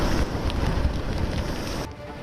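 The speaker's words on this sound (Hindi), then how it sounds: "समंदर में उठ रही ऊंची ऊंची लहरें, तेज हवाएं और जोरदार बारिश।" Strong winds from Cyclone Tauktae in Mumbai roar in a steady, loud broadband rush, with gusting buffeting on the microphone and no voices.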